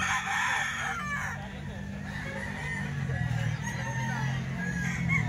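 Chickens and roosters at a poultry market in San Jose del Monte, Bulacan, a dense near chorus of clucking and repeated crowing over busy crowd murmur, with people talking throughout.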